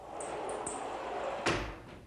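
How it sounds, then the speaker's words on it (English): A burglar forces open a sliding glass door, with faint scraping and rattling over a steady hiss, a few light clicks, then a sharp knock as the door gives. "Bad guy is going to show us how we get in through a sliding glass door."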